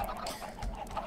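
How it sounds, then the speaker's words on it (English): Chickens clucking in the Minecraft video game, a soft, continuous murmur of short clucks from a large flock, faint and steady with no talk. "There are so many chickens down here."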